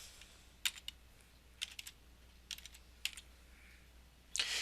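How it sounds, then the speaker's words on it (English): Computer keys clack in several short bursts of quick taps with pauses between, close and fairly crisp over a low background hum, ending in a louder cluster of strokes. "we can type in gardening"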